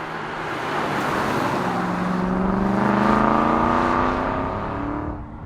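An Aston Martin car is driven on the road, its engine a steady, continuous drone with rising and falling tones as it accelerates, loud and close throughout with no talking.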